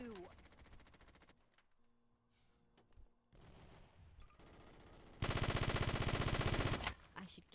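Rapid video game gunfire bursts out in segments, loudest as a sustained dense barrage near the end, with quieter game sounds and music between volleys.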